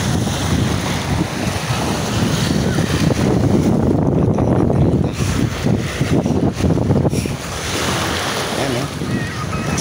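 Waves and strong wind at Baseco Beach in Manila, a loud continuous roar of surf with gusting wind buffeting the microphone throughout.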